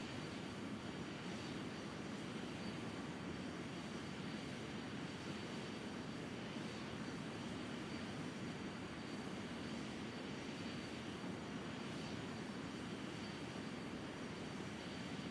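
Airplane engine roaring steadily during takeoff in a flight simulator game, a dense, unbroken drone that holds at full, even loudness throughout with no speech over it.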